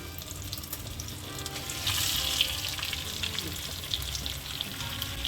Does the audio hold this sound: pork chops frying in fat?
yes